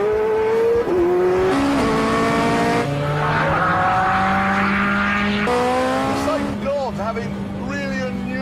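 Ferrari 430 Scuderia V8 revving on track, a loud close howl that rises and drops through gear changes with a brief tyre squeal, sustained throughout.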